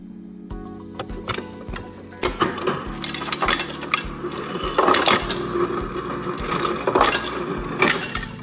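A Whirlpool refrigerator ice maker turns and drops ice into its bin. Close, clattering clinks and knocks of cubes tumble in an irregular patter over a faint motor hum.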